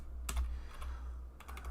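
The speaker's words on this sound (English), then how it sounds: "Lots of typing." Someone types on a computer keyboard while coding a board game in Unity: quiet, close clicks arrive in two short bursts of rapid keystrokes separated by a brief pause.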